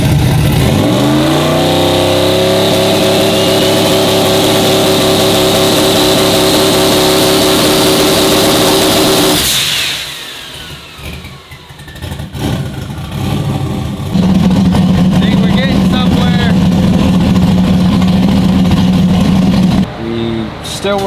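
A turbocharged Chevrolet Nova drag car revs loudly at the line, then launches with a rising roar that cuts off abruptly, followed by quieter rumbling and a steady idle drone near the end.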